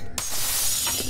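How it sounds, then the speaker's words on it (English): A pane of glass shatters in the first-person shooter F.E.A.R., a sudden loud crash followed by a dense, bright spray of breaking shards that fills the whole second, with no talk. "That is definitely a pane of glass."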